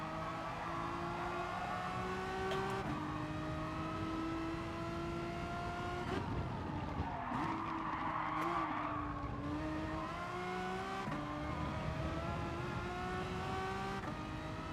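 Renault Megane race car in Gran Turismo Sport on a lap: steady high engine drone with gear shifts and rising revs, brief tire squeal mid-run, continuous and loud throughout.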